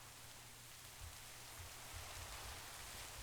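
Steady rain falls in the TerraFirmaGreg Minecraft game, a continuous soft hiss with a low rumbling layer, fairly quiet and unbroken, with no voices.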